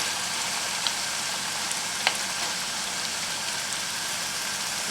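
Ground masala hits frying onions in a pan for mutton ghee masala, giving a steady, loud sizzle with crackling spits and a couple of sharp pops.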